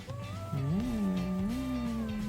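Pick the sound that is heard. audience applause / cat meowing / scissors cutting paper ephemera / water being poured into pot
cat meowing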